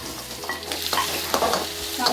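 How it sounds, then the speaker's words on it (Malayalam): Chopped onion and okra sizzle steadily in a pan for Malabar sambar while a spoon stirs and scrapes through them, close and continuous. "ഇതിലേക്ക് നമുക്ക് അരിഞ്ഞിട്ട് സവാളയും കൂടി ഒന്ന് ചേർത്ത് കൊടുക്കണേ"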